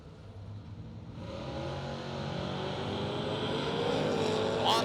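A Camaro drag race car held on the trans brake at a March Meet drag race, its engine rising to a loud, sustained roar as it launches and pulls down the track.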